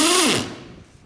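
A drill with a pilot bit whines briefly as it cuts through a thin quarter-inch mobile home bathroom door backed by a 2x4, the motor pitch dropping and fading within a second.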